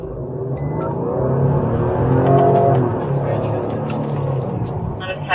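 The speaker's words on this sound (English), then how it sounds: "10-4 vehicle taking off again." A car fleeing a police traffic stop roars and accelerates nearby, its engine droning loudly and steadily while a bodycam officer's voice talks over it.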